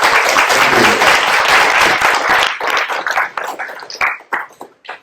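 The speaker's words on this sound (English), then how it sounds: "Let's give Steve a round of applause." Audience applause for YouTube co-founder Steve Chen after a talk: a dense, loud wash of clapping that thins after a few seconds into scattered, fading individual claps.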